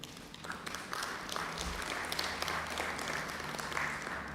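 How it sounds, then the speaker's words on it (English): Council members at a full council meeting applaud the mayor after the draft budget is presented, a steady, fairly quiet patter of clapping that sounds distant and holds evenly for a few seconds. "Let's all clap our hands."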